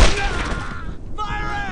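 Suppressing gunfire in the World War II shooter Brothers in Arms: Road to Hill 30, a loud, dense burst of shots that dips briefly and then picks up again, with battlefield noise continuing throughout.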